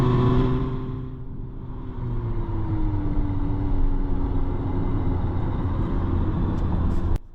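A 2025 Omoda 5 car accelerating hard from a standstill to 100 km/h, its engine drone rising steadily under continuous road and wind noise for several seconds before cutting off abruptly at the end.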